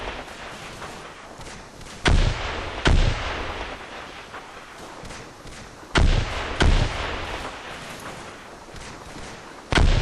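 Heavy machine gun fire in the WWII game Combat Mission, Market Garden campaign: loud, booming bursts arriving in pairs every few seconds over a steady background rumble of battle.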